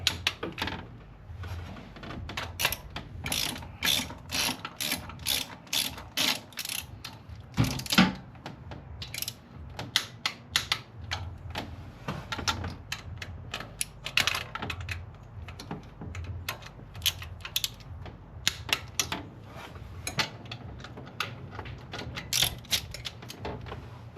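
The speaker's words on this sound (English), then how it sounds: "we're going to torque them to 22 foot-pounds, and we're going to start in the middle" Rapid ratcheting clicks come from a torque wrench tightening intake bolts on a 2010 Subaru Forester, close and sharp in uneven bursts with short pauses between bolts.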